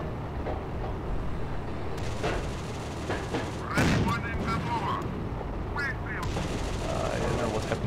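A tank cannon firing in the Steel Fury combat game, a heavy boom rising out of a constant rumbling battle din with scattered distant gunfire.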